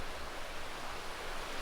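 Waves crash continuously against big rocks along the Pacific coast at Trinidad, California, a steady broad roar of surf with no pause, fairly close and unbroken by voices.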